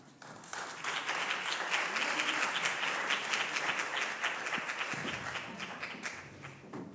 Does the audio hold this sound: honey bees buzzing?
no